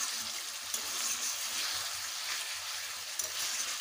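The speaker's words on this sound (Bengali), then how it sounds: "ভালোভাবে কষে নেব।" Chopped medium tomato being stirred and sautéed in a pan for a hotel-style egg curry, a steady close sizzle and frying hiss with soft rhythmic scrapes of the spoon throughout, no voices.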